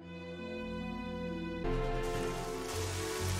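Rain falls in the video game Evoland 2 as a dense, steady hiss that swells and thickens partway through, mixed with sustained game music and no talking.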